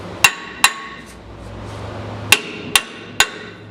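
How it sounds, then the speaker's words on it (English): Five sharp hammer strikes on metal ring out in two clusters while hammering a rear bumper part into place, each a bright clanging hit with a short ringing decay, against quiet background. "So we're gonna hammer it in some."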